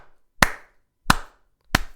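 Three single hand claps, sharp and evenly spaced roughly two-thirds of a second apart, sounding close and fairly loud against a quiet background, given as applause during a reaction to a Real Madrid 2-1 Atletico match.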